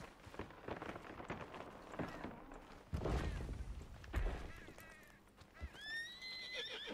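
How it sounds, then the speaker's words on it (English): A horse in the Red Dead Redemption 2 video game neighs and whinnies amid clip-clopping hooves and background game ambience, with several rising whinnies toward the end. "I heard a horse there."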